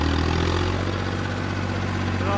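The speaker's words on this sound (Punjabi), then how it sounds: "ਟਰੈਕਟਰ ਵਧੀਆ ਚੱਲੀ ਜਾਂਦਾ" A tractor engine runs steadily with a loud, low rumbling drone, close and continuous throughout.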